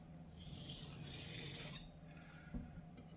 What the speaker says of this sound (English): I'm just going to do a few quick strops on the stone